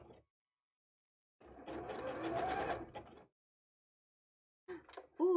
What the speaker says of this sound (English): If I sew it from the back where I can actually see the mesh, I know I don't miss anything, so it's a little safer.